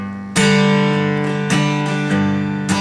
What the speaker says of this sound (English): So here's your G that we learned first.